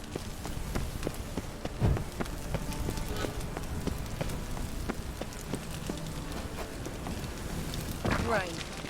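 Steady rain patters continuously on surfaces in The Witcher 3: Wild Hunt, with faint clopping steps and occasional muffled voices mixed in.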